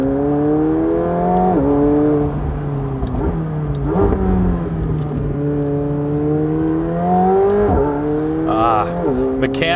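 A 2020 McLaren 720S Spider driven with the top down, its engine note running steadily throughout with repeated rises and dips in pitch as it revs and shifts, loud and close.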